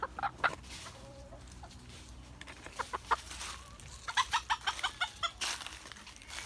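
Ispenç chickens, including a rooster, cluck in a series of short, sharp bursts against steady background noise, growing busier toward the end.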